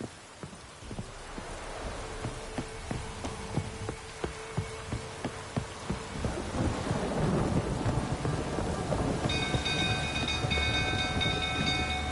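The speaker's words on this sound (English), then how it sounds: "Lightning strike." A lightning strike and thunderstorm in The Witcher 3 video game: a deep rolling thunder rumble builds and grows heavier over steady rain, with a rhythmic pounding beneath and no talk.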